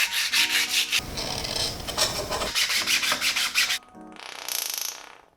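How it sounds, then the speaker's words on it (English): Sanding joints on 3D printed plastic pieces by hand, with brisk rhythmic back-and-forth rubbing strokes up close, a short pause, then a lighter, higher scratchy pass at the end. "the first step will be sanding some of the joints and gluing them together."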